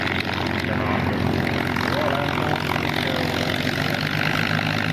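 A restored propeller aircraft drones steadily during a test flight, its engine a constant rough hum, with a voice faintly audible underneath.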